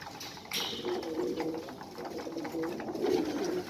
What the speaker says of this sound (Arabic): هذا حمام زين.